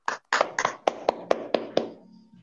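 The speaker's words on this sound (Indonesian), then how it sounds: "Beri tepuk tangan yang meriah kepada para calon rektor kita semua." Audience at an online open senate meeting gives a short burst of applause for rector candidates, a quick run of separate claps that tails off after about two seconds.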